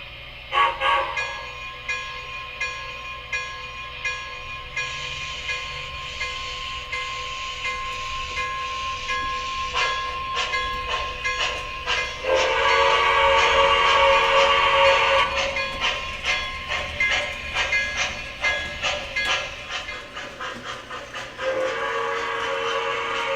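A small O gauge model train whirs along its track with a repeated clickety rhythm, sounding several whistle toots along the way.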